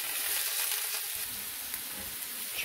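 Mushrooms fry in a pan with vinegar added, a soft steady sizzle with faint crackles, close but fairly quiet and with no talking.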